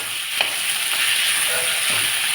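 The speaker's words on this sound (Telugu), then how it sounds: "ఇప్పుడు టొమాటోలు వేస్తున్నానండి." Tomatoes fry in a pan for a spiced potato masala rice with a steady, close hiss, and a few faint stirring knocks come through, with no speech.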